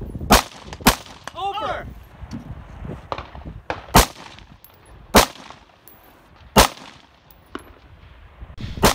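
Rifle shots ring out at a black rifle shooting match from a rooftop prop, several loud sharp cracks spaced irregularly a second or more apart, with a brief spoken word and faint metallic ringing between shots.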